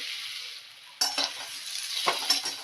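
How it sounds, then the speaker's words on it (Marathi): Dates sauté in ghee with a close, steady sizzle, interrupted by a few scraping stirs of a spoon against the pan. "हा जो खजूर घेतलाय तो पण तुपावरती परतून घ्यायचा आहे"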